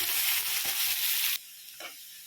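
Onions frying in a pan until brown, with a loud, steady sizzle that cuts off abruptly, after which quieter scraping and a short clatter follow.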